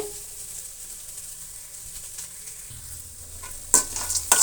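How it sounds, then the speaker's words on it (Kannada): Onions frying in a pan for a festive village-style lemon rice dish, producing a quiet, steady sizzle with a few louder stirring scrapes near the end, no voices. "ನೋಡಿ, ಈ ರೀತಿ ಈರುಳ್ಳಿ ಫ್ರೈ ಆಗಬೇಕು."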